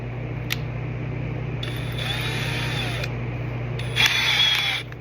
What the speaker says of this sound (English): I'm going to put this piece in the drill just the same.